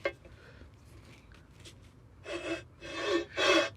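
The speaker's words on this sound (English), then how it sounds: "the file's not the greatest, but it's what I'm gonna do" Hand file rasping across a flat metal surface during restoration of a 1972 Plymouth Road Runner, three loud rhythmic strokes after quieter light scraping, close to the microphone with no talking.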